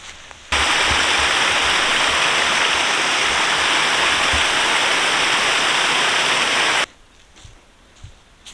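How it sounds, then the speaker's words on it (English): An outdoor waterfall roars in a loud, steady, broadband rush for about six seconds, with quieter open-air ambience just before and after. "I hear the distant calls of a waterfall."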